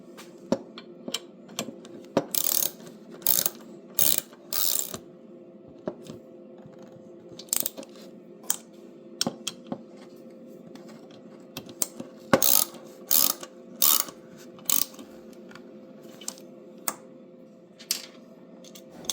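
A ratchet wrench cranks down a motor mounting bolt during a burnt traction motor replacement in a cold shop, giving bursts of quick, close clicking strokes separated by pauses over a steady low background hum.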